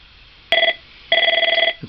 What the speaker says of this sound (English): This is an incoming ring.